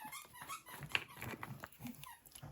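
Dogs play at a distance indoors, giving faint squeaks, scuffles and small yelps with soft crinkling, all quiet and scattered, with no one speaking.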